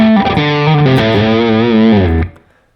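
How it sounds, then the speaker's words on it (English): Stacked second drive on a Line 6 Helix Stadium, electric guitar playing a short distorted melodic phrase with sustained harmonic-rich notes, loud and close, reverb and delays off, ending abruptly after about two seconds. "so that's the second drive,"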